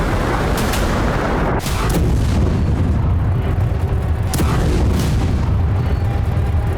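Series of heavy blasts from Storm Shadow missile strikes on Russian cities, loud booms and rumbling bursts at intervals over dense continuous low roar.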